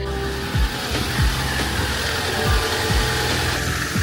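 A Jeep's engine runs steadily on a test drive, a continuous low rumble with occasional dull thumps as it rolls along, moderately loud and with no voices.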